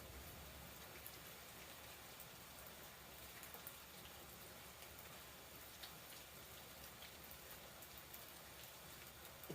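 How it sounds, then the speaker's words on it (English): Steady rain falls throughout, a dense continuous hiss of drops hitting outdoor surfaces at a constant level, with no talking. "But the rain has kicked up again."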